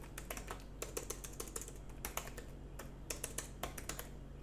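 Rapid, uneven typing on a computer keyboard, with dense clusters of crisp key clicks and brief pauses, close and fairly quiet with no voices.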